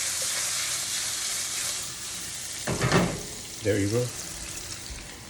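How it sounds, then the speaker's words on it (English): Goat stew ingredients sauté in hot oil in a home kitchen, giving a continuous bright hiss and crackle, broken by a couple of stirring scrapes, while a voice speaks briefly over the sizzle. "just let it saute in the oil for a few minutes"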